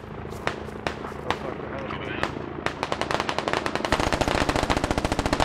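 Automatic gunfire in the military shooter game Squad: scattered single shots at first, then a rapid sustained burst of loud, evenly spaced rounds building toward the end.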